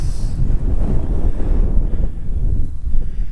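Heavy wind at Blue Hole in Santa Rosa, New Mexico, buffets the microphone with a continuous low rumble and gusty roar, loud and close, with no voices.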